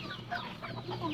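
Native chickens cluck softly and continuously, a faint, close murmur of short clucks with no voices.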